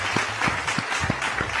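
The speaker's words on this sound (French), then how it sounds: "Applaudissons pour eux." Audience applause at a Douala event honoring an airline's crew and pilots, steady clapping from many hands filling the room without pause.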